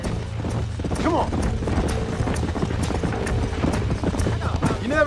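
Horse hooves clip-clop in Red Dead Redemption during a herd-tracking ride, a steady rhythmic trot up close with creaking and tack noise, while a voice speaks over it.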